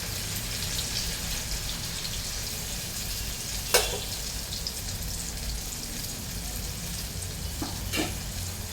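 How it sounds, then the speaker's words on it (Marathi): Alu vadi, colocasia leaf rolls, deep frying in hot oil, giving a steady, dense sizzle and crackle throughout with a couple of sharper pops, close up and continuous, with no talking. "आता आपण याच्यामध्ये अळूच्या वड्या तळून घेणार आहोत"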